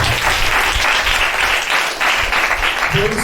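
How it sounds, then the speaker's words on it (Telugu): A congregation at a Telugu Christian church service claps loudly and steadily in a dense, sustained burst lasting the whole few seconds, close and full. "అందరూ చెప్దాం గట్టిగా ఒకసారి చప్పట్లు కొట్టండి."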